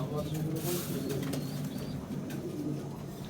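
Pigeons in a loft holding young birds and breeding stock, with steady low cooing layered through a dense, continuous murmur of the flock at moderate loudness and no talk over it.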